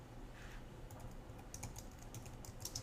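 Someone types HTML code on a computer keyboard, making soft, irregular clicks and taps. The keystrokes are quiet and close, and no one speaks over them.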